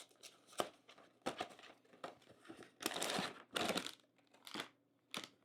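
Cardboard and packaging crinkle and tear in bursts as a taped box of Reese's dipped animal cookies is pried open, loud and close, with short quiet gaps.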